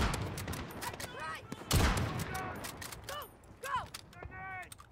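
Gunfire in Call of Duty Modern Warfare 2019, with sharp bursts of shots, a heavy boom near the middle and a few more clipped reports, set among in-game sounds and a player talking over it.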